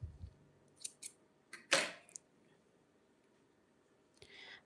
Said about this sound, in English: now you can just cut this first color off